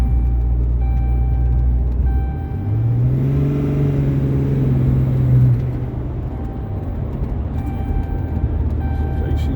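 Truck engine accelerating hard, a loud low rumble whose pitch climbs steadily over a few seconds before settling back to a steady drone, heard from inside the cab with someone talking over it.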